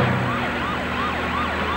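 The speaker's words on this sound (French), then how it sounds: "en voiture bleue avec les feux et la sirène" A police car siren wails in a rising and falling sweep, loud and close, with traffic noise beneath it.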